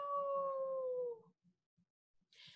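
A person's voice imitates a wolf howl, a long sustained wavering tone that fades out after about a second, followed by quiet and a short breathy burst at the end.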